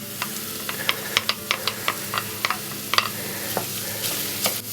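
Mushrooms going into a saucepan of softened vegetables for loaded baked potatoes, giving a steady sizzle punctuated by a run of sharp clicks and scrapes from stirring, close and fairly loud, with no talking.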